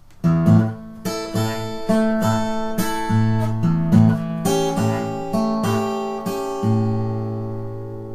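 Acoustic blues guitar fingerpicked in a steady pattern, thumb-picked bass notes under plucked treble strings, each phrase ending in damped chords; close and clear, played alone with no talking.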